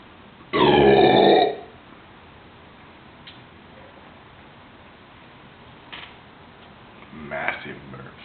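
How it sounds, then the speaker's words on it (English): One loud, long close burp from a man after gulping Coors beer, followed by quieter taps and a softer second belch-like grunt near the end in an otherwise quiet room. "Massive burps."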